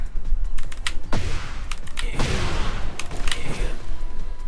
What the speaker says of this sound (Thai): โอเคคีย์บอร์ดนะ แบบดูผมปุ่มกดปุ่มนะ